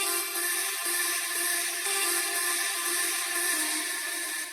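A vocal chop cut from an acapella for a melodic dubstep remix, sitting in a dense, steady sustained texture with bright high shimmer and no gaps, playing continuously throughout.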